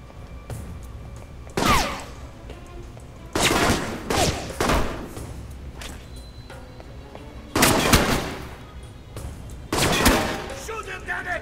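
Bursts of automatic gunfire in the action video game Awesome Protocol come in several loud, separate volleys of rapid shots with pauses between them, plus faint background game sounds.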